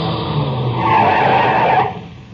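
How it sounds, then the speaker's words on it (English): A car comes over a rough road at night and skids to a stop, its tires scraping loudly across the surface before the noise drops away, with no voices. "I heard the whine of a car coming over the rise in the rough road"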